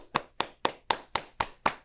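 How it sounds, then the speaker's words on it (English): Seven evenly spaced hand claps ring out alone at a steady beat, crisp and close, rather than a full audience ovation. "applause for Adam Lowder"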